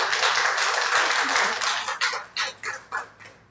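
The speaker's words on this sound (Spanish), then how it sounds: "Un fuerte aplauso, por favor." A crowd at an educational panel discussion applauds loudly, then the clapping thins out into a few scattered claps before fading.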